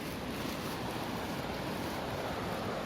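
Glacier meltwater rushes along the Gangotri to Gaumukh mountain trek, a continuous broadband roar with no breaks, steady and moderately distant, with some wind mixed in and no voices.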